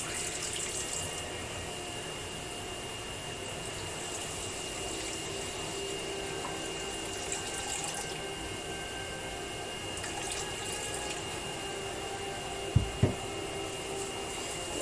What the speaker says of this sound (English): I'll dump a little bit down the sink